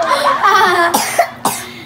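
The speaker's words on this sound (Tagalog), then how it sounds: "Oh, umubo." A few sharp coughs burst out after some muffled, indistinct chatter, close to the listener and fairly loud.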